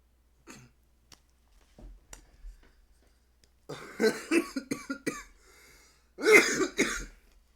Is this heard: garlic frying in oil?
no